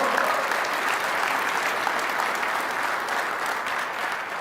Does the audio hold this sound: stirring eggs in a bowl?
no